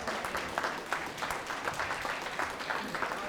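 Audience applause at a mushaira poetry gathering in Dubai, a dense, moderately quiet patter of many hands clapping continuously for several seconds, heard from a little distance.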